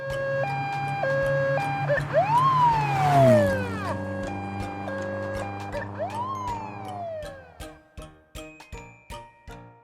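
A police car siren sounds loud and close, switching between a two-tone hi-lo pattern and rising-falling wails, ending in sharp repeated yelp bursts.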